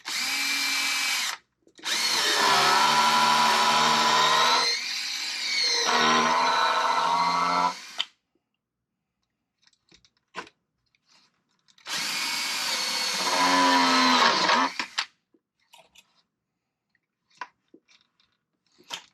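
A power drill whines loudly in two long bursts, grinding through material with pitch shifts, separated by quiet stretches with small clicks and handling noises.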